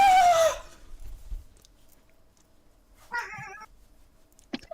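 A cat gives one clear, fairly loud meow with a falling pitch at the start, followed by quiet room noise and a couple of faint, short vocal sounds.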